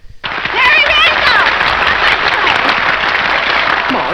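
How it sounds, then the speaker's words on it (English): Audience applause from the 1937 film Stage Door rises quickly and holds as a dense, loud roar, with voices and excited shouts mixed in. "I know that I'm grateful to you for your applause"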